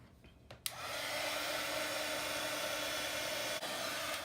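A heat tool warming a craft tag for a junk journal switches on with a click and then blows a steady, close, roaring whoosh of hot air without pause.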